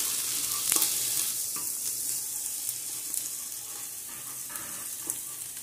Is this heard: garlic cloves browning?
yes